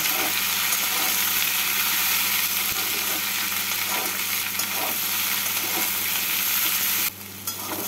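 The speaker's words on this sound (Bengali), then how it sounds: "এবার গ্যাসটাকে মিডিয়াম ফ্লেমে রেখে আলুর সাথে ঢেঁড়সগুলোকে 2 মিনিট মতো ভেজে নেব।" Okra and potatoes frying together in a pan over medium flame give a steady, dense sizzle with faint stirring scrapes, close up and continuous, easing slightly quieter near the end.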